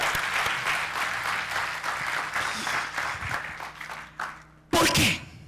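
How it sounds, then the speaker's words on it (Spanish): A church congregation applauding, a dense sustained clapping that gradually thins out and fades, followed by a short loud burst of sound at the end. "dele un aplauso a esa palabra"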